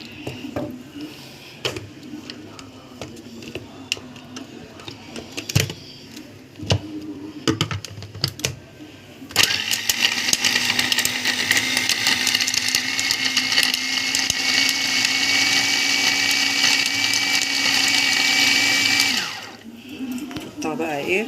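An electric blender grinds vegetables into a coarse mix. After scattered knocks and clatter under talk, a loud, steady whirring motor runs for about ten seconds before cutting off.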